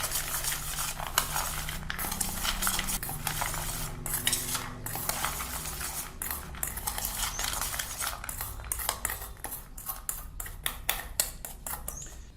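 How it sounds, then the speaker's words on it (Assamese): A metal spoon stirs boiled chickpeas and peanuts in a bowl, producing a close, irregular series of scraping clinks and taps that grow sharper and more frequent toward the end. "এতিয়া চামুচ এখনৰে ভালকৈ লৰাই দিম"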